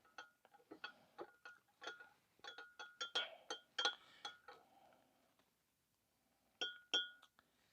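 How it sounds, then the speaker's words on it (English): A spoon stirs coffee in a cup inside an RV, rapid bright metallic clinks against the cup in a quick irregular run, a pause, then a couple more taps, close and quiet. "And I'm going to give it a stir."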